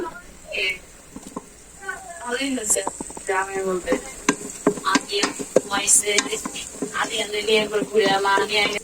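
Chicken pieces frying in a pan with chopped chilies, stirred often, while a pasta dish is cooked at home: loud continuous sizzling with repeated scraping and clacking of the utensil close up.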